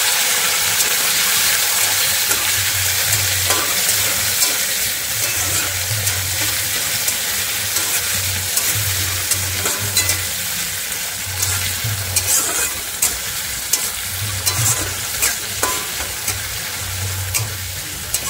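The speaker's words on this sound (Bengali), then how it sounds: "টমেটোটা ভালো করে আমি ভেজে নেব তেলের উপরে" Chopped tomato fries in hot oil while a spoon stirs it, giving a loud, continuous sizzle broken by scraping and clinking strokes against the pan and a recurring low hum in the background, with no talking.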